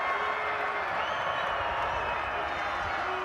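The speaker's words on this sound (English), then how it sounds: "Listen to this crowd." Stadium crowd at an NCAA Football 2025 FCS playoff game, Villanova at Lehigh, a loud steady roar of cheering and clapping that fills the whole stretch with some voices mixed in.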